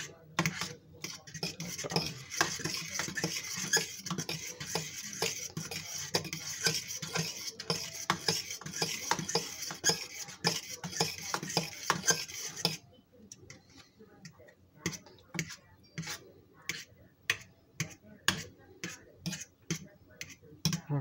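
A chickpea tofu ricotta mixture stirred in a pan, with rapid, regular clicking and scraping strokes of a utensil, busier and denser at first, then sparser, distinct taps near and fairly quiet.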